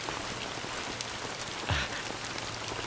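Steady rain pours down outdoors, a dense continuous patter on surfaces with a brief louder splash or thud midway; no voices.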